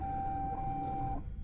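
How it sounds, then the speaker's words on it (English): A crafting machine in the airship survival game Forever Skies gives a steady, printer-like mechanical whir with a sustained tone that runs for about a second and then cuts off abruptly. "It really just sounds like a printer."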